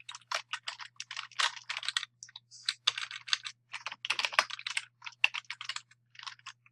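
A computer keyboard clatters with soft, quick keystrokes, including presses of the tab key. The irregular bursts come close and quiet, with short pauses between runs of typing and no talking.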